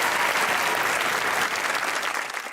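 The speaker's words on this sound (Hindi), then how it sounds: "एक दफा तालियां यार" Studio audience applause on a comedy show, a dense, steady burst of clapping that fills the room and tapers slightly at the end.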